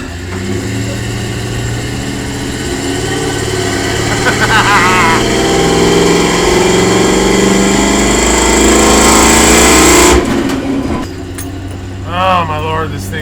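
A Chevy Blazer shop truck's engine runs loud and steady, rising as it revs while driving down the street, with a brief voice near the end.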